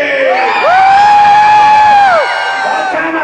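A crowd of children screams together at a live graveyard revue show, a loud sustained wall of high shrieking and whooping that rises, holds for over a second and then tapers off.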